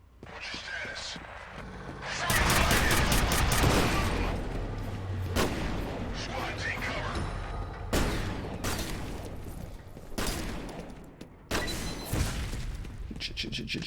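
Gunfire and grenade blasts in the shooter FEAR: loud, rapid bursts of shots and heavy booming explosions with shattering debris, dense at first and then in separate volleys, with someone talking now and then over the combat.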